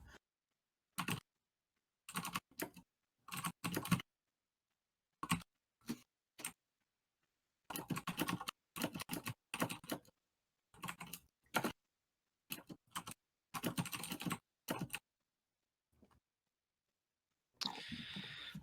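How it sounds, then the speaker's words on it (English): Bursts of clicky typing on a computer keyboard come in short irregular runs separated by silent gaps, close and crisp, with a denser stretch near the end and no talk. "I'm typing it out."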